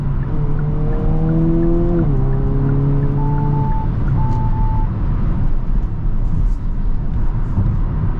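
A 2023 Hyundai Kona N's 2.0-litre turbocharged four-cylinder engine drones steadily under road noise, rising in pitch then dropping as it shifts, with a faint whine above.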